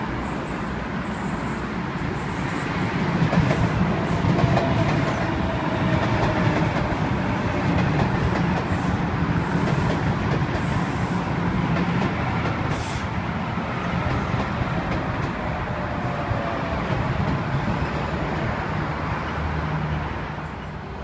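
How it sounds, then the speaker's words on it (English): A Sydney Trains Waratah set rolls in over the bridge toward the platform at Milsons Point, with a steady loud rumble and a wheel clatter that runs unbroken for the whole stretch and no talk. "Got another Waratah coming over the bridge. It'll arrive into platform number 2."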